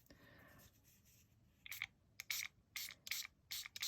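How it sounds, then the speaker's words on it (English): A pump sprayer mists coffee dye onto a scrap of paper in several short, sharp hissing bursts, close and fairly loud after a quiet start. "And now we have coffee spray or coffee dye. And you can just spray on a piece of paper."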